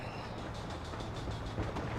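A train rolls along steadily in Red Dead Redemption, a continuous rumbling drone with faint rhythmic clatter, loud and close, with no talk over it.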